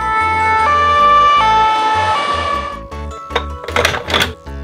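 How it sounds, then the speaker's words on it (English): A white ambulance siren wails loud and close in stepped, two-tone pitches for about three seconds, then gives way to a few short, thumping bursts. "White ambulance."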